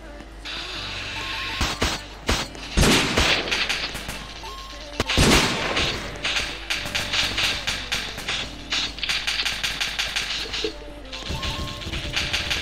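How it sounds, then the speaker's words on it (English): Gunfire from people shooting guns in a Roblox game, dense bursts of shots and crashing impacts ringing out continuously, loud and close, with heavy clusters around a few moments and no tanks or explosions. "It's just people shooting with guns."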